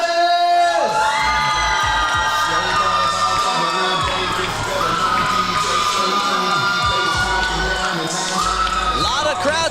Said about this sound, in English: Crowd support for the Wolf